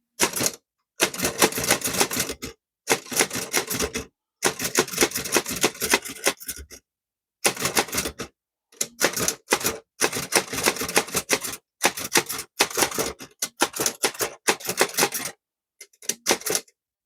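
A 110-year-old art deco Chicago typewriter typing on a sheet of paper, loud rapid bursts of mechanical key strikes in runs of a second or two separated by short pauses, heard alone.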